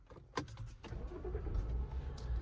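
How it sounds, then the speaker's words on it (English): A BMW F10 535 xDrive cranks with a brief burst, catches, and settles into a low, steady engine rumble inside the car. "we're gonna start the car and go for a drive"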